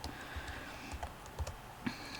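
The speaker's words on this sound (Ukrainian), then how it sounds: "Ось зараз я натискаю стрілочки." Arrow keys tapped on a computer keyboard while working in a spreadsheet: a handful of separate, crisp clicks at an uneven pace, close and clear over faint room noise.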